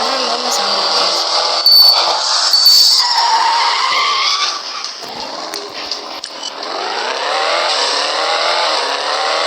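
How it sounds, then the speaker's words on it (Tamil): Jaguar car engine revving hard and close, a loud sustained roar that dips briefly midway, then climbs again in rising pitch as the revs build. "Jaguar car guys."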